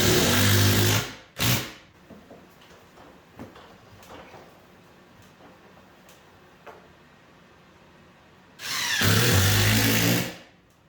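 An impact driver sinks a structural screw through a lumber rack mount into a garage wall, two loud bursts of whirring torque at start and end with quieter handling clatter between.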